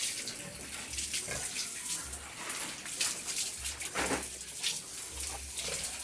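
Water sprays and splashes steadily while pet pigs are bathed on a farm, a broad hissing rush with uneven bursts and faint grunts underneath.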